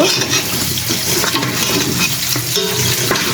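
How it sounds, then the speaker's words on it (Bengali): Spices, tomato, egg and potato fry loudly in a pan, giving a close, steady, wet sizzle with stirring and bubbling throughout and no talking. "মশলা কষানোর পরে টমেটো, ডিম আর আলু দিয়ে দিয়েছি। তো ভালোভাবে কষানো হয়ে নিই"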